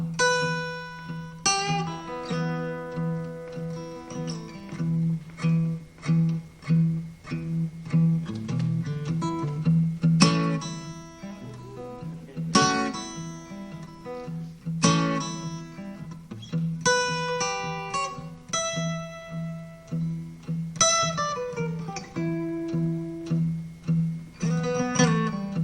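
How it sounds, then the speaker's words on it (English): An old drugstore guitar strung with rusty Black Diamond strings plays a lively, steady run of plucked notes and strummed chords for about 25 seconds, close and clear, with no one talking over it. "Then he choked down on those old rusty Black Diamond drugstore guitar strings of his."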